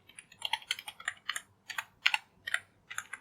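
Fingers typing on a computer keyboard, a close run of quick clicky keystrokes in irregular bursts, with short gaps and no talking.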